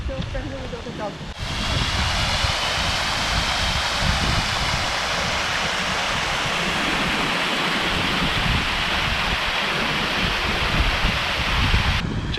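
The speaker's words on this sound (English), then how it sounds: "nice sound of water running through the lock gates" Water rushes through the lock gates on the Kennet and Avon Canal on a dry winter day, a loud, steady, close roar that runs unbroken, with some wind buffeting the microphone.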